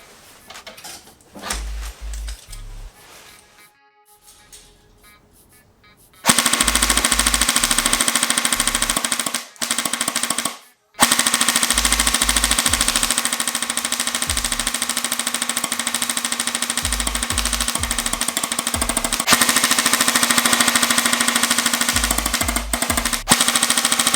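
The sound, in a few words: Snow Wolf SW-02A airsoft Barrett M82A1 firing full auto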